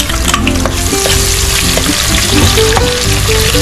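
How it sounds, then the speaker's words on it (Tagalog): Onions sautéing in a hot pan for ginisang monggo, a loud, dense, continuous sizzle and crackle close up, with scraping stirs of a utensil through it and no talk. "Igisa na tayo ng sibuyas"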